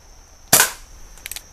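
A single sharp crack from an Umarex cowboy air rifle, loud and close, followed moments later by a few quick, faint metallic ticks as the shot strikes a tin can.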